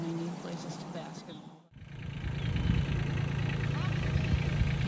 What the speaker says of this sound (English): this is Chauncey Young with his tractor and a couple of logs that he brought from home that we're going to place into the pond